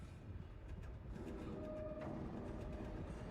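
A tram arriving in the Dead Space video game, a low continuous rumble of rail cars with rattling and a faint rising whine, heard at a distance and fairly quiet.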